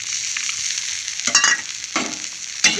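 A tamarind mixture sizzles steadily in a pan as a utensil stirs it, giving a few scraping strokes over the bubbling fry.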